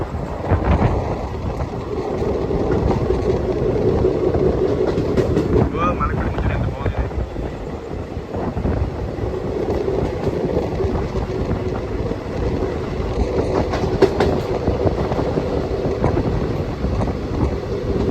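Passing Malakpet, the Kacheguda-Mysuru Superfast Express with ICF coaches rumbles at speed as a loud, continuous roar with rattling clatter and strong wind buffeting, heard from on board, with brief voices under the noise.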